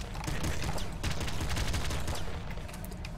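Rapid full-auto machine gun fire from the video game Nuclear Throne, a dense stream of sharp shots rattling continuously over game noise, loud and near throughout.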